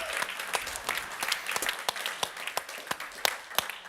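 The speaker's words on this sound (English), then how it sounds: "A round of applause, Barbara and Petra." An audience at the BLISS 2025 event applauds two women, a short burst of sharp, distinct claps, fairly close and uneven in rhythm.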